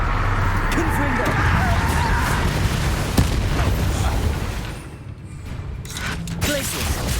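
Confringo fire spell blasts in Hogwarts Legacy combat, with booming explosive bursts over a dense, continuous battle din, and voices talking throughout.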